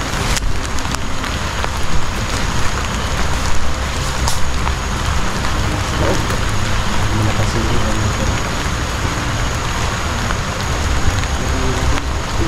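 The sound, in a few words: heavy rain and wind outdoors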